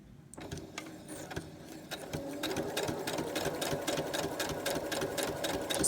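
A sewing machine stitches fabric circles in a fast, even mechanical rattle that starts after a brief pause and grows steadily louder, running close and clear with no talk.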